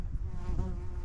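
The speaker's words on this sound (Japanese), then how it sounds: "ブーンって蜂が飛んできて。" A bee buzzes loudly and close as it flies past a hiker on the Daisen summer mountain trail in Tottori, a brief steady drone that swells and fades within a second.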